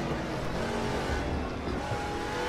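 A race car engine at full throttle in the RaceRoom Raceway racing game drones loudly and continuously, with a high, steady rising pitch.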